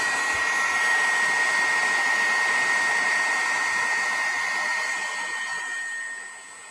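A heat tool blows steadily on craft flower petals, a loud continuous whirring hiss with a high whine that holds, then drops slightly near the end. No talking.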